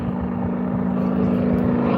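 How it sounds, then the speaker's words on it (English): A 1942 Howard DGA propeller airplane rolling through aerobatics at an airshow at Pocono Raceway, a steady loud engine drone with a strong low hum that stays constant throughout. "flying her own 1942 Howard DGA. Look at the roll rate on this airplane."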